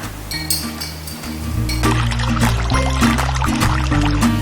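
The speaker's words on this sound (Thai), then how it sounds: "เดี๋ยวน้องเฟิร์นเทน้ำลงไปได้เลยนะคะ" Water is poured into a vacuum filtration setup in a lab, a close splashing pour with light glassy clinks starting after a quiet moment and then running steadily to the end.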